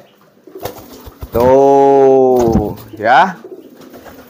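A female homing pigeon coos in a long, steady, droning call followed by a shorter second coo, close by, with people talking around it.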